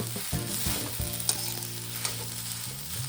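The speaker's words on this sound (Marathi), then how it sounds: "मिरची जरा अशी परतून घेतली" Green chillies sautéing in a hot pan, sizzling steadily and close, with a few light stirring scrapes and no voices.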